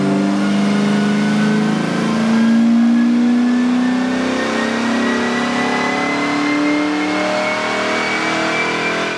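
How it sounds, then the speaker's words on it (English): A 2004 Ford Mustang Mach 1 revs hard on a dyno at a garage dyno day, its engine note climbing steadily in one long, loud pull with no talking. "The day began with Scott Lutz's 2004 Mustang Mach 1."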